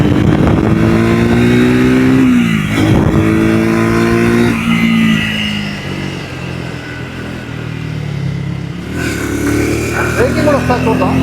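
A 2026 Triumph Speed 350 motorcycle accelerates hard, its loud, close engine note climbing steadily in pitch through the gears, with brief dips between pulls.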